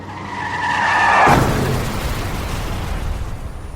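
A car's tires screech in a long skid that ends in a loud crash about a third of the way in, followed by a rumbling, fading aftermath of debris and impact noise.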